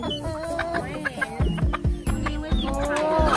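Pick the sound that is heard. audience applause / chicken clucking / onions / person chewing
chicken clucking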